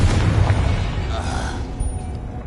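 A Confringo fire spell bursts in the Hogwarts Legacy video game as a loud, deep booming blast that rumbles and slowly fades over about two seconds.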